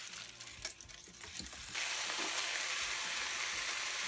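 Kale hits butter in a pan over medium-high heat and bursts into a loud, steady hiss of sizzling after a few quieter handling sounds, with no talking.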